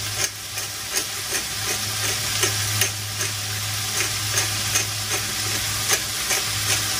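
Cabbage sautéing in a pan: a continuous close sizzle under rhythmic scraping stir strokes about once a second, steady and moderately loud without speech.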